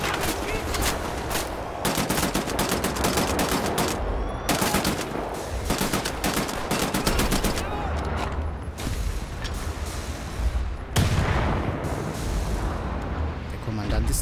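Dense, relentless gunfire in the shooter game Wolfenstein The New Order, rapid automatic bursts with brief gaps, loud and close throughout.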